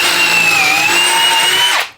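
A Bosch BiTurbo 1/2-inch 18-volt hammer drill bores a hole at a 90-degree angle, giving a loud, close, steady motor whine that shifts slightly in pitch and stops abruptly at the end, with no talking.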